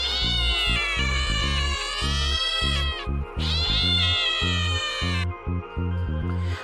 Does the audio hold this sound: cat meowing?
yes